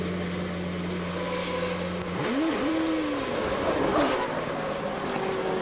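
GP2 race cars leaving the pit lane at a Spanish circuit in 2006, with a steady engine drone followed by rising and falling revs as the cars accelerate away, heard at moderate distance through a constant broadcast background.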